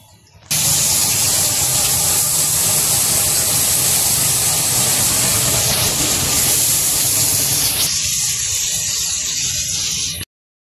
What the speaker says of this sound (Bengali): তো এই যে মাছ ভাজবো, কড়াই তেল দিয়ে দিছে